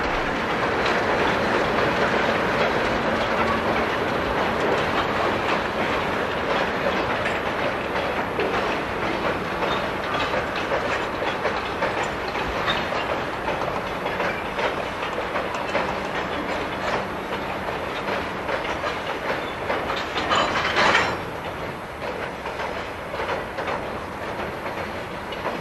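Bay Colony freight train led by two locomotives rolling past near Needham Upper Falls, a long, steady rumble with rhythmic clickety-clack of wheels over rail joints, loud and close, with a short hiss near the end.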